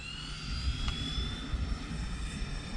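A Freewing F-14 Tomcat RC jet with 80mm ducted fans flies overhead, a steady high-pitched whine with a smooth rushing roar, moderately distant and continuous throughout.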